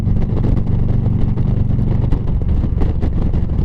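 Road traffic and engine rumble heard from a moving motorcycle, a loud continuous low roar with wind buffeting the microphone throughout.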